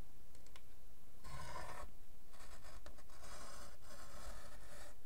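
A utility knife blade scrapes and drags through thick paper in a few rough, pressed strokes, close and quiet, with short pauses between cuts.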